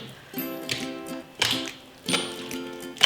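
Crunchy rainbow floam slime being squished by hand, making soft, quiet clicking and crackling bursts that come roughly every half second, close up, with no voice heard.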